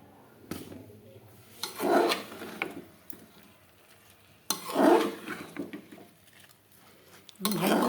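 Khichuri made with bhog rice and assorted winter vegetables is stirred and fried in a pan. The stirring and scraping come in a few loud bursts separated by quieter stretches of soft sizzling, with no talk.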